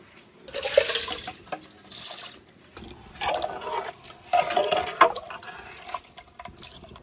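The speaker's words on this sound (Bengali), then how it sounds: "এবার ছোলার ডাল আর চাল একসঙ্গে ধুয়ে নিয়েছি, দিয়ে দেবো জলের মধ্যে" Washed chana dal and rice are poured into a pot of hot water while cooking khichuri, giving several splashing, pouring bursts with short pauses between them, close by.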